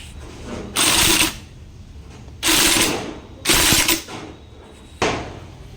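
Four bursts of a power tool tightening bolts during half-bore engine fitting on a Bajaj Pulsar 220, each a loud buzzing whir lasting about half a second to a second, separated by quieter gaps of workshop noise.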